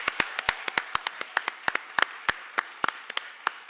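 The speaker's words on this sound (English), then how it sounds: "one last huge round of applause" Scattered applause from a forum audience in Halifax thanking sponsors, a sparse handful of distinct sharp claps in an irregular rhythm, fairly close and clear against a quiet room.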